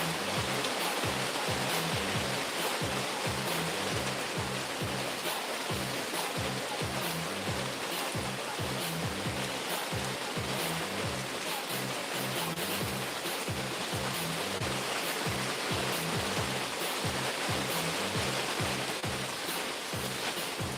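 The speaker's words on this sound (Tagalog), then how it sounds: "Lakas ng ulan, guys." Heavy rain pours down on a downtown street in Shibuya, Tokyo, a loud, steady, dense hiss that carries on without a break from start to finish.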